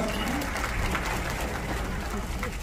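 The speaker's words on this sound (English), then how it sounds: "A round of applause." Sustained applause from a red carpet premiere audience for a film, steady and dense throughout with some crowd voices mixed in.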